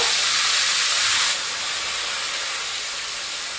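Thick-cut snake gourd pieces fry in hot oil, a loud, steady hissing sizzle that drops slightly in level partway through and then continues evenly.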